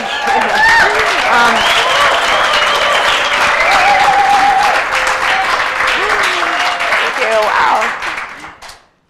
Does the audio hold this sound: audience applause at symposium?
yes